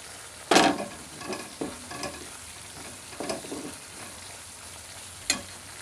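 Grated coconut sautéing in a pan for a pavta bean amti, with a low dry sizzle broken by a few sharp spatula scrapes and stirs, close and fairly quiet with no talking.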